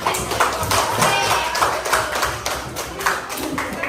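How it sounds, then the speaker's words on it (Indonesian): A classroom of students claps for a group that has just finished presenting, a brisk, fairly close patter of many hands that carries on evenly throughout. "Ya, beri tepukan."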